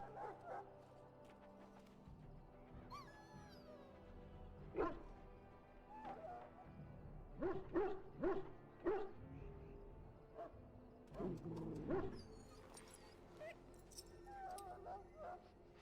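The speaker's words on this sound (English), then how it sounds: "Now I can treat the dog properly, poor fella." A dog in Dragon Age: Origins whimpers and gives a few short barks and yips, close by, scattered across the scene beneath quiet speech.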